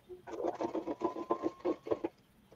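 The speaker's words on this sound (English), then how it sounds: "Are you sewing? Yeah, I just did. Is that what I heard?" A sewing machine stitching vintage tags runs in a quick run of rapid, rhythmic stitch pulses for about two seconds, close and moderately loud, with no talk over it.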